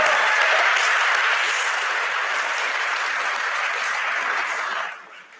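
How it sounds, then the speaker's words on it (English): Sustained applause from a graduation ceremony audience in a historic building at the University of Oxford, dense and steady, then fading away near the end. "So a round of applause for all of you."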